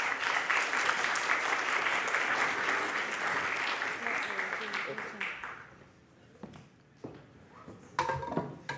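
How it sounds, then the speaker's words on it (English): Audience applause welcoming Bruno Faidutti before his talk on board games and video games, dense steady clapping for about five seconds that thins to scattered claps and some talk. "Please give a big round of applause."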